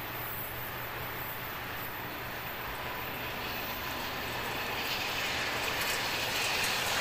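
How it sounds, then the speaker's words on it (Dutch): A D-train from Basel arrives at Maastricht on the Maastricht–Liège line, its steady rolling rumble and rail noise slowly growing louder as it draws near. "Even later komt de D-trein vanuit Basel naar Maastricht."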